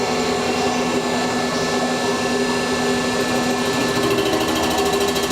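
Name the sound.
CNC machine cutting an engine block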